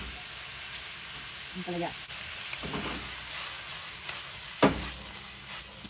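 Garlic sautés in a pan for Okinawa-style stir-fried bitter melon with spam and tofu, a steady soft sizzle with a few spatula scrapes and a sharp clack, while a person speaks briefly.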